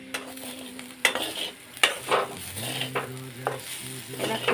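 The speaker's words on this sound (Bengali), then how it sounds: "আর আলু ভাজা হচ্ছে" Potatoes fry in a pan, with a soft sizzle under intermittent utensil scrapes and clinks against the metal, and a faint tonal hum in the background.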